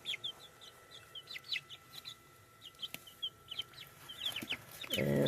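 Backyard chickens cluck in short soft bursts while pecking at feed with grit and oyster shell, the clucks coming in quick irregular runs before a louder, closer rustling noise at the end.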